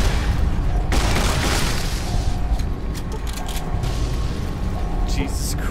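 Explosions in the video game Fallout: New Vegas rumble as dense, heavy booms throughout, with sharp crackling bursts and game effects layered over a loud low-end roar.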